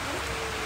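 Rain falling steadily in the Taman Negara rainforest, a dense, loud hiss of drops filling the whole moment without a break.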